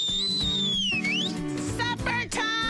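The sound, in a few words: whistle blown to call people to supper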